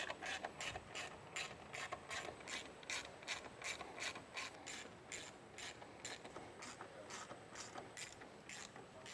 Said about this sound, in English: I'm just going to use a 1/4 inch ratchet with a short extension on it to spin these in.